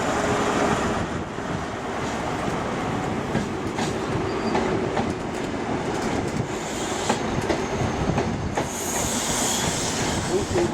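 A Northern train moves through Leeds station with a continuous rumble and clatter of wheels on rails, steady and fairly loud, with a higher hiss or squeal joining near the end.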